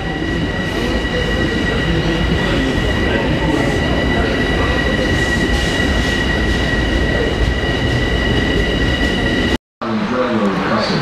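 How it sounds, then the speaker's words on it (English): A Long Island Rail Road train on the Main Line rumbles past continuously at close range while crossing over, with steady rail noise, metallic tonal squeal and wheel clatter throughout, cutting off abruptly near the end. "so that train is to cross in front of the westbound that's coming from Ronkonkoma"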